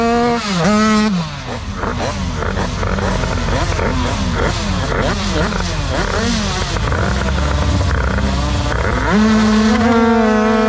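A two-cylinder dragster scooter making a drag run at a French record attempt, its engine screaming loud and close, climbing in pitch repeatedly through rapid gear changes before settling into a steady high drone.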